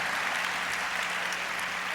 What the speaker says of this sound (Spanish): Un aplauso fuerte al Señor con mi hermano Fernando Rueda.